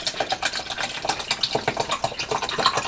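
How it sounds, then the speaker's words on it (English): Water pours steadily into a pot of chicken broth, a continuous splashing, gurgling stream close by for a few seconds, with no talk. "I'm going to also add an additional 2 more cups of water to this pot"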